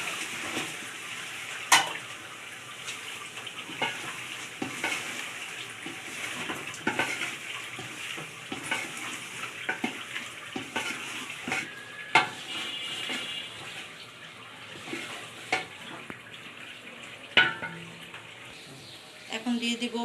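Chicken pieces for morog polao fry in a pan while being stirred, with sharp spatula scrapes and knocks over a low sizzle and sputter.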